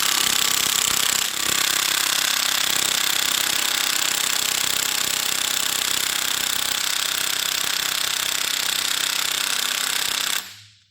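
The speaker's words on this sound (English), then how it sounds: "Let's see if this electric half drive impact wrench can remove the main bolt." An electric half-inch drive impact wrench hammers steadily on a main bolt of a Toyota 1GR-FE 4.0 liter V6 engine, a loud continuous rattling buzz held for about ten seconds before stopping abruptly.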